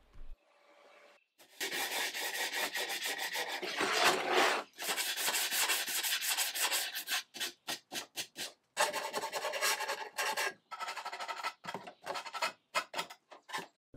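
Long rasping strokes of hand sanding on painted wooden drawers, first continuous then in quick, regular back-and-forth rubs, close and fairly loud.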